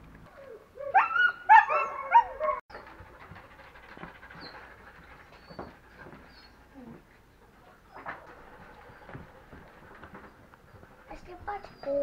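Husky sled dogs in a pine forest near a bridge, a short burst of barking and whimpering close by at the start, then scattered fainter dog sounds and footsteps; people talk quietly in between.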